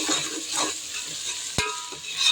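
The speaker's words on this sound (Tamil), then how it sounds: "நல்லா பச்சை வாசனை போகிற வரைக்கும் நல்லா வதக்கி விட்டுருக்கலாம்" Ginger garlic paste for mutton biryani sautéing in a pan: a close, steady sizzle with stirring strokes and one sharp clack of a spoon against the vessel.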